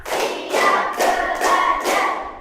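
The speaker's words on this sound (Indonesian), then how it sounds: "Oke, tepuk semua kita ya." A class of students claps a rhythm pattern together: five sharp, even bursts of group clapping at a steady pace, close and fairly loud, with no talking.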